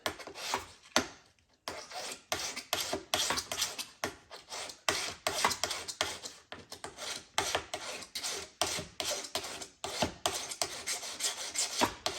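A hand file rasps back and forth on a 1966 Corvair driveshaft U-joint, producing a steady series of close, gritty metal strokes in an even rhythm with brief pauses between passes.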